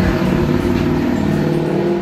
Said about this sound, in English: Very loud truck!